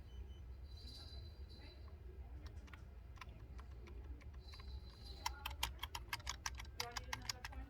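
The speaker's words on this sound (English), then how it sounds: "I can hear some keyboards." Keyboard typing in a busy room, a quick run of sharp key taps growing clearer toward the end over a low background rumble.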